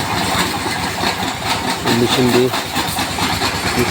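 Brick-making machine running with a steady, dense mechanical clatter and rumbling engine drone, a brief tonal hum rising partway through, close and continuous.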